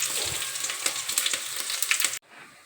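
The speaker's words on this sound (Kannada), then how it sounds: "ಇವಾಗ ಅದಕ್ಕೆ ಕರಿಬೇವು ಹಾಕ್ಕೊತೀನಿ. ಮತ್ತು ಬೆಳ್ಳುಳ್ಳಿ ಹಾಕೋತಾ ಇದ್ದೀನಿ." Curry leaves and garlic fry in hot oil for a simple lentil saaru, a close, crackling sizzle with sputtering pops that stops abruptly near the end, leaving a faint hiss.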